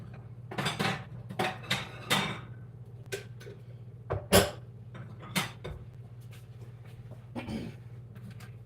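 Sausages set down on a plate with a run of light clinks and taps of cutlery and dishware, close and sparse, spaced irregularly over a low steady kitchen hum.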